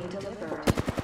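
Video game gunfire comes as a quick burst of four or five close, sharp automatic shots after a stretch of low background game noise.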